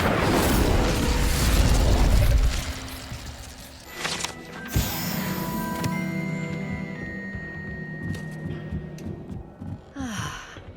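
The Incendio fire spell cast in Hogwarts Legacy, a loud whooshing burst of flame that swells and then fades into crackling, tonal magical shimmer and a final bright flare, all close.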